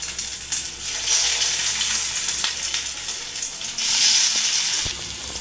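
Carrot poha tikkis fry in hot oil with a steady, bright sizzle that swells louder in two bursts, without any talking.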